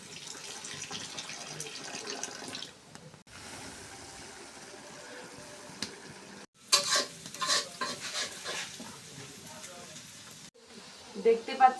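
Spice paste with a splash of water stirred in a pan over a clay stove while cooking beef, bursts of sizzling and scraping that start and stop, loudest in the second half, with quieter pauses between.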